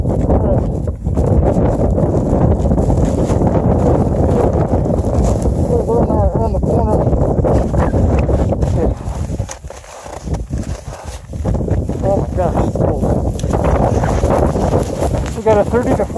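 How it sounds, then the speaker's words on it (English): Strong 30 to 40 mph mountain wind on a trail near Longs Peak in Colorado buffets and roars against the microphone, loud, close and continuous, with people talking over it. "We got a 30 to 40 mile an hour wind in the lee edge of a rock."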